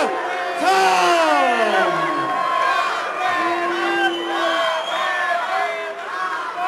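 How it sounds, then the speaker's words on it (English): A large crowd at a boxing weigh-in cheers, whoops and shouts loudly and continuously, with rival fans' yells overlapping in a dense, roaring mass of voices throughout. "Although the crowd of Mexicans behind us uh, are trying to, to, drown out those cheers, but Amir Khan looks"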